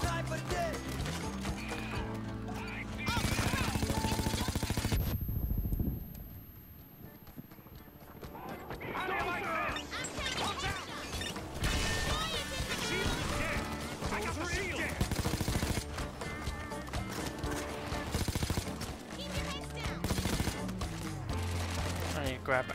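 Shotgun blasts and dense gunfire fill a chaotic Payday 2 heist firefight against Bulldozer enemies. Loud shots crowd together in rapid bursts under layered game noise, with a brief drop partway through, and a player talks over it.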